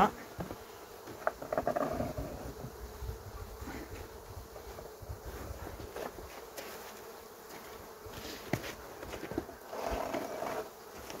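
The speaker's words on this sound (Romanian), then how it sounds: "Deci colonia e pusă în ladă, punem, acoperim și mai am vreo două albine de luat de aici." A honeybee colony being moved into a hive box in winter snow buzzes as a steady, fairly faint drone, with scattered handling noises and brief voices in the background.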